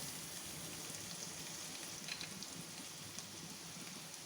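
Cumin, garlic and ginger frying in oil in a pan for home-style chana dal, a faint, steady, even sizzle with no other sounds.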